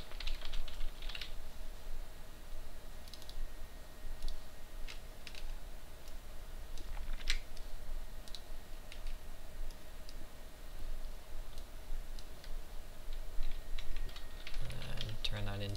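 Quiet clicks from a computer keyboard come in irregular short bursts of keystrokes and shortcuts, soft and close, over a low steady room hum.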